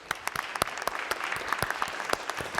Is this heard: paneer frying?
no